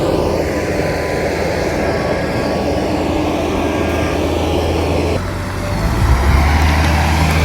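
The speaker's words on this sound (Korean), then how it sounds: "트랙터가 이 로타리를 치고 있네요" A farm tractor runs a rotary tiller across a rice paddy in Hapcheon at planting season, its engine giving a steady, loud low drone throughout that rises and swells near the end, with no voices.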